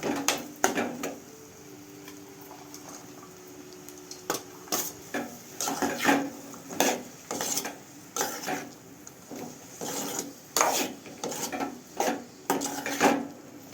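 Capsicum pieces stirred in a pan for a simple capsicum curry, with a steady run of close scraping and clinking strokes of a utensil against the pan, fairly loud and regular, with no voices.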